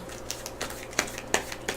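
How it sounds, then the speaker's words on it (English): A pile of treasure cards from the Dark Souls board game being shuffled by hand: a quick run of light papery clicks and taps, close and fairly quiet, with no one talking. "this is the treasure pile, so let's give it a shuffle"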